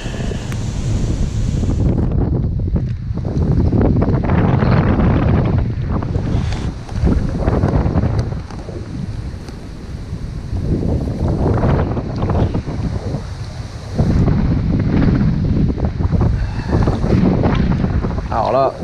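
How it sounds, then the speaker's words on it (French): Strong wind buffets the microphone on a fishing outing on the water, with heavy low roaring gusts that surge and ease, and someone speaking intermittently beneath the blasts. "je suis complètement emporté par le vent"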